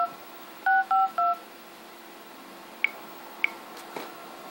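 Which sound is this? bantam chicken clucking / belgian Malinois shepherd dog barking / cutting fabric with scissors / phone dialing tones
phone dialing tones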